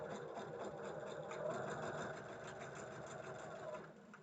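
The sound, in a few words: sewing machine stitching a 1/4 inch seam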